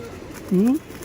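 A longtime pet pigeon pair gives one short, close coo that stands out briefly against quiet background noise.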